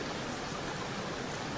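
Deep water in the Roblox game Jurassic Blocky gives off a steady, even rush of flowing water, constant and unbroken with no voices.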